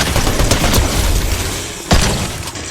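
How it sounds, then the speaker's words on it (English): Video game bots fire guns in a dense, loud stream of rapid shots with booming bursts. A sharp, heavy crack stands out near the end, and no voices are heard. "why are they shooting?"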